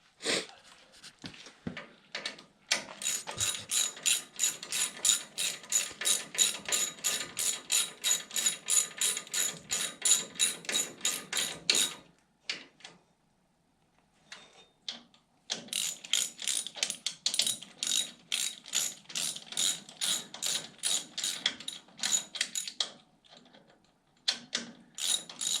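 A ratchet wrench clicks in rapid, even bursts while working on the rear end of a Studebaker half-ton pickup. Two long runs of clicking are separated by a short pause, close and fairly quiet.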